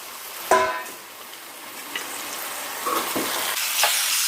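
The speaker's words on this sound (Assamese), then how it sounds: "নেক্সট মই বিলাহী কেইটা এইদৰে কাটি পাই দি দিছো আৰু এইখিনি মই অকনমান ভাজি লওঁ" Chopped tomatoes frying in a pan for a chicken curry, with a loud hiss and clatter as they go in, then steady sizzling and a few scraping stirs, close by with no talking.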